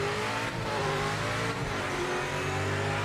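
Race car engines in the video game Project Motor Racing, LMDH prototypes in an online lobby, drone and rev steadily and loudly for the whole stretch, with layered engine tones and no talk.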